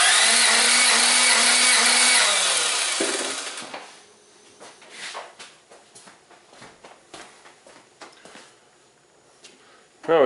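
A Toyota 1.6L four-cylinder engine in a '96 Geo Prizm cranks at wide open throttle for a compression test, with plugs out and fuel and ignition disabled. The starter whirs loud and steady for about three seconds, then cuts off, leaving quiet handling noises.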